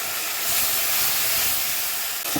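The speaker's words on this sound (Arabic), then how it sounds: "انا بحب بقى احط حبه خل صغيره كده عليه" A splash of vinegar hitting browned golden garlic in a hot pan, a loud continuous hissing sizzle and burst of steam filling the whole short moment.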